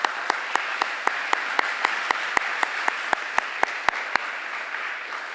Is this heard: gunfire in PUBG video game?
no